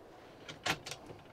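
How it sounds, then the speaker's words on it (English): Drawers sliding open and shut in a motorhome interior at a caravan and motorhome show, giving a few soft knocks and a sharper thud, close and fairly quiet against room hum. "More drawers."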